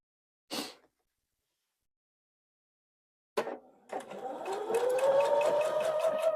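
Sewing machine stitching quilt pieces for a Santa pixel quilt, a brief click, then after a pause a rising motor whir that settles into steady rapid stitching, close and alone.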